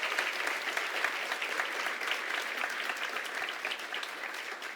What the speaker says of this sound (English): Let's have one more round of applause for the Greater West Bloomfield